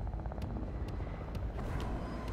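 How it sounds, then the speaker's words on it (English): A helicopter flies overhead in a shooting video game, its rotor a continuous low rhythmic thump with periodic sharper pulses, loud and steady throughout. "Oh, there's a helicopter."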